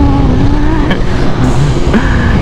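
A Kawasaki Ninja ZX10R running on E85 speeds past, a loud, close engine roar with shifting, rising pitch and gear changes, heard alone.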